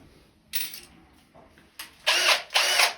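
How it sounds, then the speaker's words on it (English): A power drill with an arrowhead bit bores into a shower wall to mount a grab bar, running in several short whirring bursts that grow louder and longer toward the end, with brief pauses between them. "it's important to let the drill do the work. Do not force it."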